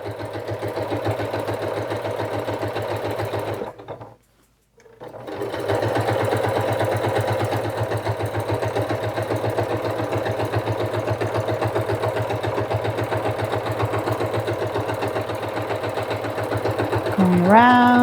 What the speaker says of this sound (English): Okay, so now we're going to sew the lining of our stocking.